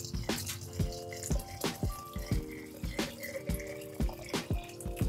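Salt water is poured into a vessel of fermenting homemade soy sauce, giving close, repeated splashes and drips in irregular bursts with a faint ringing tone underneath.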